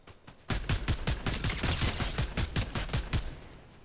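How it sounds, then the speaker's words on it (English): Rapid automatic gunfire in Fortnite: a steady burst of about twenty sharp shots after a brief quiet start, loud and close, with no talk over it. "Oh, looks like there is gunfire."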